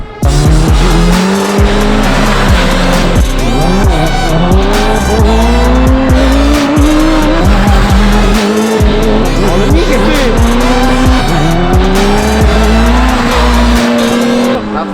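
A Suzuki Hayabusa motorcycle ridden hard off-road, its engine loud and close, revving up through the gears again and again with rising pitch sweeps and brief drops at each shift, continuous throughout.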